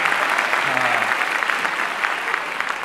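Steady applause from a comedy show crowd fills the room, a dense wash of clapping held at even level, with a brief voice murmuring underneath near the start.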